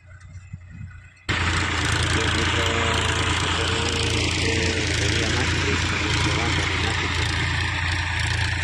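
A tractor engine runs in a Bt cotton field, starting abruptly after a quieter second and then holding a loud, steady rumbling drone close by, with a voice talking over it.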